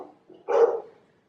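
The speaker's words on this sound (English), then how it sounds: "my dogs are barking at who knows what" Dogs barking indoors, a single fairly loud bark preceded by a softer huff, then silence.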